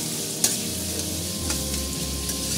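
Chopped garlic, onion and green chili sizzling in a wok, a dense steady hiss broken by a few soft stirring knocks.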